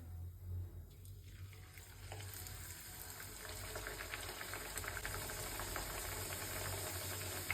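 Peas-filled luchi frying in hot oil in a kadai, giving a steady, continuous sizzle and bubbling that stays fairly loud throughout, with a low hum underneath and no talking.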